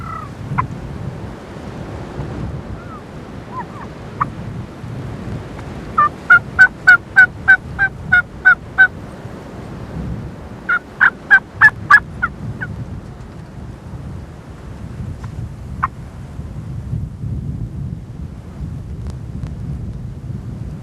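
Wild turkeys gobble in two distinct bursts of repeated calls, fairly close, over steady outdoor wind noise in woodland, with a few scattered softer calls before and after.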